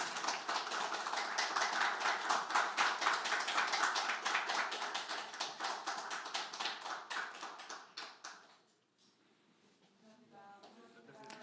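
Audience applause at a Democratic Party campaign event endorsing a presidential candidate: dense, steady clapping from a crowd that holds strong for about eight seconds, then drops away to a quieter tail.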